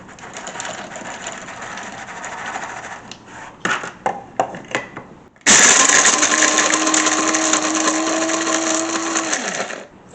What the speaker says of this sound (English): We'll get them in our grinder to break them down.